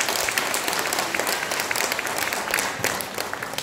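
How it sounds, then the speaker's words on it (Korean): A large audience claps loudly and continuously in a church hall at a crowded gathering, a dense wash of applause that stays strong throughout before easing slightly near the end. "힘찬 박수 한번 쳐주세요."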